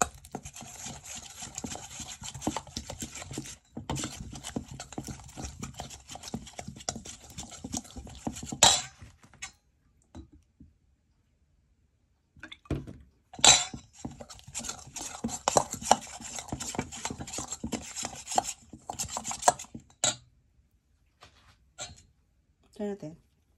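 A drink sweetened with sugar is mixed in a container, with rapid close scraping and clinking stirs in long bursts, a pause, then more vigorous stirring while a person talks intermittently.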